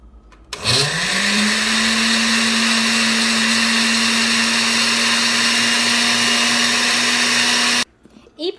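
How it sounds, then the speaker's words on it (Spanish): A blender spins up with a rising whine and runs steadily, loud and close, blending a shrimp sauce with garlic, then stops abruptly near the end. "Así que vamos a licuar."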